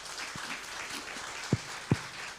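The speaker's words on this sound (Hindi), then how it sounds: "जोर से ताली बजाएं प्रभु के लिए" Applause at a Sunday church service, a soft wash of distant clapping from a crowd with two louder nearby claps standing out.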